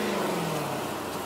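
A car engine hums and revs steadily at close range, a continuous low drone with a slight pitch drop.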